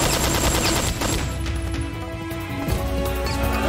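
Rapid automatic gunfire in Metal Gear Solid 3: Snake Eater, a loud, dense fusillade of overlapping shots that continues without pause for a few seconds.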